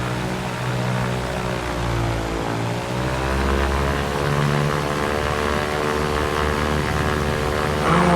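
Propeller aircraft engine in the X-Plane 11 flight simulator being throttled up, a steady harmonic drone that rises in pitch and grows louder, heard alone with no talk.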